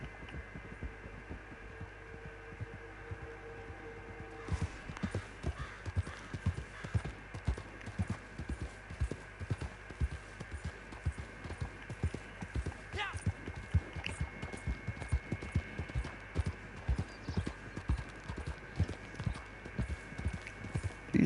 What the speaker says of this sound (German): Jetzt reiten wir schön langsam zu der anderen Range.